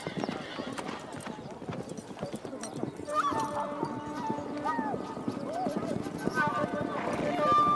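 Horses trotting and neighing during horse training in Mongolia, with clip-clop hoofbeats and several whinnies rising over someone speaking throughout.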